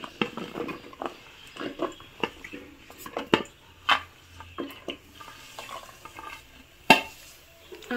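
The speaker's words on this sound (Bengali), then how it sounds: "প্রথমে দিয়ে দিচ্ছি আমি বেগুন, আলু, সিম, তারপর দিয়ে দেব আমি আদা আর কাঁচা লঙ্কা।" Eggplant, potato and flat beans tumble into a hot pan one after another, giving a string of sharp clattering drops and scraping stirs over a faint sizzle, close and fairly loud, with no talking.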